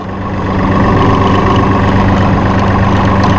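Massey Ferguson 2604H utility tractor engine, a loud, steady low diesel rumble that holds an even pitch throughout, close by and with no talking.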